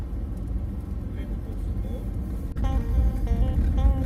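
A car driving along a road at dawn, a low steady engine and road rumble filling the cabin while people talk over it.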